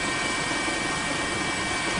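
Steady roar of a news helicopter in flight above tsunami coverage near Sendai, Miyagi Prefecture, a constant, loud engine and rotor drone with no breaks and no speech.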